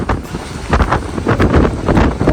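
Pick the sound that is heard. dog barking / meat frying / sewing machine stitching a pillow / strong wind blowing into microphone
strong wind blowing into microphone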